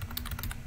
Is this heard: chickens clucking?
no